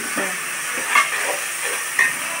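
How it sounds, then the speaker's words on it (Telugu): Fish pieces being mixed by hand with salt, chili powder and turmeric for a tamarind fish curry, giving a soft, steady hiss of wet rubbing with a couple of slightly louder squelching moments, no talking. "ముక్కలు ఆల్రెడీ ఉప్పు కారం పసుపు కొద్దిగా వేసి కలుపుకుంటున్నామండి"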